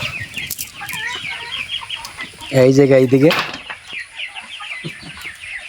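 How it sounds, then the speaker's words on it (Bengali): Local chickens on a poultry farm cluck and squawk close by, with one loud burst of calling in the middle and some wing flapping, while someone speaks briefly over them. "আরেক কয়েকটা লোকাল মুরগি আছে"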